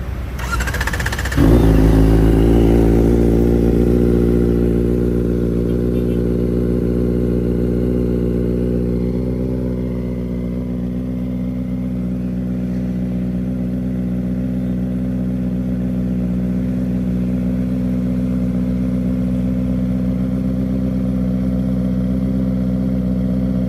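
A Kawasaki ZX-4RR 400cc motorcycle engine gives a short, loud rev at the start, then settles into a steady, humming idle that runs on close and unbroken for over twenty seconds.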